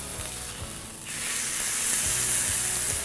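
A fillet of beef sears in a hot frying pan, a loud continuous sizzle that swells after a brief dip as the meat is turned, with occasional light knocks against the pan.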